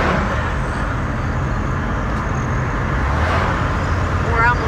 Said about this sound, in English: There comes a car.